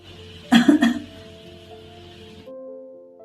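A couple of sharp, close coughs in quick succession, then a low steady hum continues in the background.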